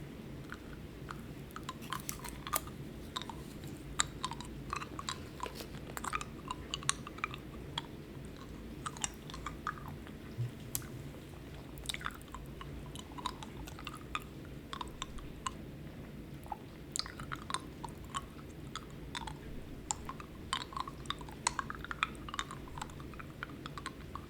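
A clear mint-flavoured hard candy is eaten up close, with soft wet mouth sounds and frequent small sharp clicks as it knocks against the teeth, quiet and intimate with no talking.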